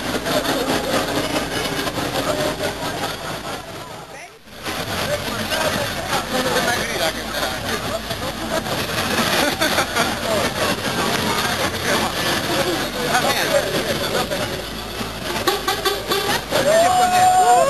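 A tractor engine runs steadily and loudly throughout at an outdoor festival main stage, with a brief dropout partway through; a voice cries out once near the end.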